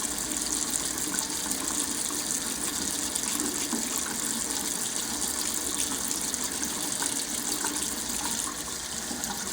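Tap water runs steadily into a sink while a razor is rinsed, a continuous close gushing splash with no talk.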